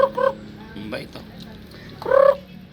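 A rooster or chicken gives several short, nasal clucking calls up close, with a burst at the start and another toward the end, over steady outdoor background noise.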